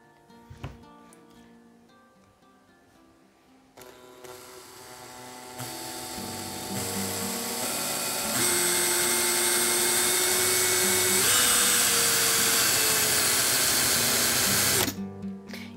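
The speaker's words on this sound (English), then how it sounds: "you're gonna drill your first hole here" A small power drill whirs steadily and grinds into a plastic bank card, its motor pitch climbing as it bites deeper, then cutting off abruptly.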